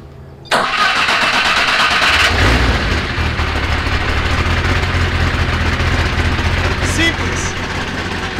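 A four-cylinder Chevette drag racing car's engine cranks and fires, bursting into a loud rough roar that settles into a heavy, throbbing idle close by.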